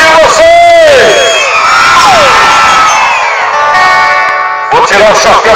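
A rodeo crowd at a cumbia-themed event cheers and shouts loudly in sustained waves, whoops rising over the roar, while an announcer's amplified voice calls out across it.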